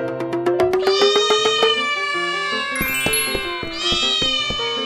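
Cats in a pet shop meow repeatedly, a string of clear, close, rising and falling cries overlapping one another, with a faint bright chime partway through.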